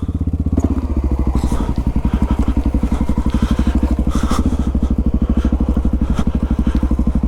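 A Honda XR650L dual-sport motorcycle chugs along off-road trails, its big single-cylinder engine thumping in a loud, rapid, steady beat close by, with occasional clatter and crackle over the pulses.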